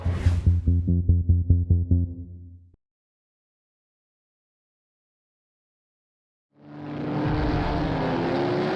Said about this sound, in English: wheels gather momentum as they race to Gallagher Corner